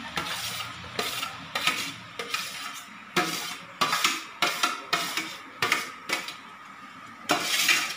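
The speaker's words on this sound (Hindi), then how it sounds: "अब हम घी गर्म हो गया है, इसमें लौकी डाल देंगे।" Grated bottle gourd for halwa cooking in hot ghee in a pan, stirred with repeated loud scraping strokes of a metal spoon in an uneven rhythm over a constant close frying hiss.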